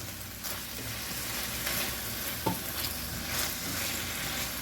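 Onions with green peppers fry on a griddle at a street food carnival, a steady moderate sizzle broken by soft scraping as they are mixed around, nobody talking.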